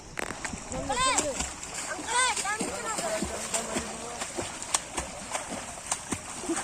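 Water splashing from people bathing in a canal in Haryana during a water shortage, with repeated close splashes and sloshing and people talking and calling out throughout.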